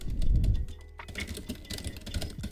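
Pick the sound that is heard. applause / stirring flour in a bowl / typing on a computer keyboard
typing on a computer keyboard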